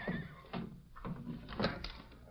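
Horses whinny and neigh in a radio western set at a stagecoach stop, several short bursts recurring over background bustle, with faint voices mixed in.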